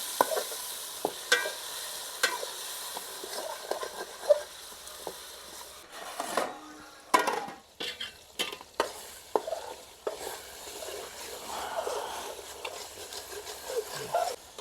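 Fish curry with tomato and salt being stirred in a pot, close scraping and clattering stir strokes over a low sizzle, continuing for several seconds with no voices.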